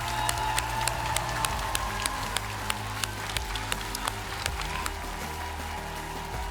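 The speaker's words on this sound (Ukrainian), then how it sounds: "Ваші оплески." A studio audience at a Ukrainian televised singing contest claps steadily, producing a dense wash of hand claps with sharper individual claps standing out, while low music or hum continues underneath.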